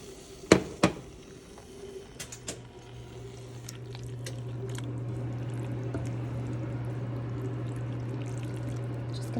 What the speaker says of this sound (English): Gonna mix in a little bit of that pasta reserve water from earlier.